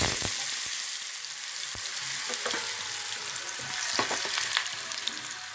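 Potatoes hit hot oil with tempering spices in a pan over a lowered flame, giving a dense, even hiss of frying with a few scattered pops and utensil knocks, close and continuous with no talk.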